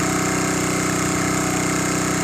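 The engine of a bore well drilling rig in a nearly dried-out rice field runs loud and close, holding a steady, rapid, throbbing idle with a buzzing vibration and no voices.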